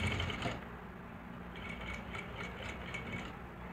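A sewing machine stitches a zip onto a lehenga blouse, giving a close, steady mechanical rattle with a faint pulsing needle rhythm that runs throughout without speech.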